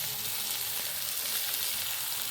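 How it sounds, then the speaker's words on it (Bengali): Onions frying in a pan with salt, stirred over heat at an outdoor picnic after a big snakehead fish catch, giving a steady close sizzle with soft scraping and no voices. "পেঁয়াজটা দিয়ে আমরা লাল লাল করে ভেজে নেব"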